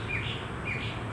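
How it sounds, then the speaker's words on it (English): Outdoors near a parked 2014 Mercedes-Benz E350 Cabriolet, birds give two brief high chirps over a steady bed of background noise, with no talking. "I probably won't even mention the birds, which are going friggin' insane all around me."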